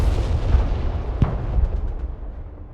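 Artillery fire in the military strategy game Broken Arrow: a deep rumbling boom with a sharp crack partway through, followed by fainter distant thuds as the sound fades, with no talking.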